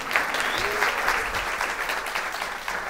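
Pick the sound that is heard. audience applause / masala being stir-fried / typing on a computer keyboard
audience applause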